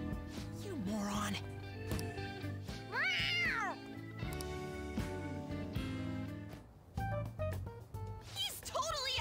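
A cat character in the video game Persona 5 Royal meows in short, rising and falling cries over game music, with several meows spread through the passage and a voice speaking between them.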